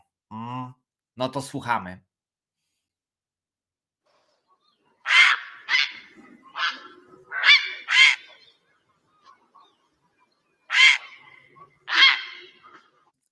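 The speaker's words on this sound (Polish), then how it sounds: "Kaczuszka, dokładnie." A recorded duck call plays in a children's animal-sound guessing game: a series of nasal quacks in short bursts, clear and fairly loud, after a brief spoken line.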